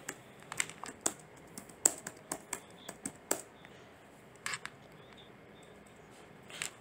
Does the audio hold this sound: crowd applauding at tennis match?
no